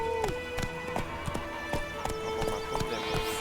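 Horse hooves clip-clop in an even, moderately close rhythm of sharp knocks, while a steady tonal background sound runs underneath.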